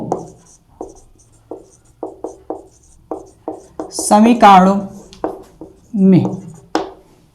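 Marker or chalk writing on a board during a class 12 maths lesson on linear programming, heard as short, crisp strokes in irregular bursts, close by, with a voice speaking in between.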